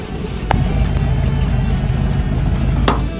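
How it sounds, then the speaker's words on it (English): An old square-body pickup truck engine rumbles steadily at close range, a continuous low drone with a couple of brief sharp clicks or rattles along the way. "You guys are gonna want to hear the truck"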